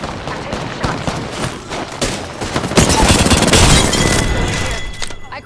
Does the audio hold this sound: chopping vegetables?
no